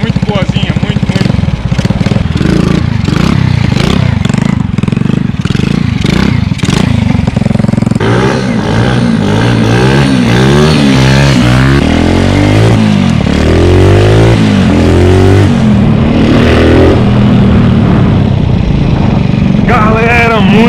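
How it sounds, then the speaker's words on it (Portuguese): Homemade 90cc mini motorcycle built from scrap, its small engine revving and droning loudly and steadily while riding along a dirt road, with someone talking over it throughout. "Galera, muito insana essa motinha, cara."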